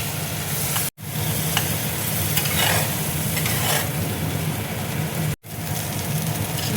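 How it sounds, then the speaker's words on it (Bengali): Cucumber with spices fries in a pan for a Kerala-style pachadi, producing a dense, steady sizzle and light stirring scrapes, with two brief drops to silence. "আরও 2 মিনিট আমি ভেজে নেব।"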